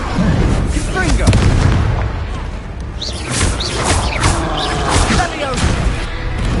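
Confringo fire-blast spells in Hogwarts Legacy burst in a rapid series of booming, crackling impacts amid busy combat noise, loud and close.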